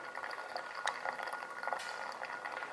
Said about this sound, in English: I poured to the very top of the filter, and I'm just letting it drain through on its own